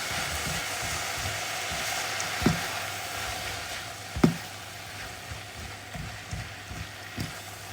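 Stir-frying in a pan with spicy white soy sauce: a steady low sizzle runs throughout, broken by a few sharp clacks of a utensil against the pan, with no talking.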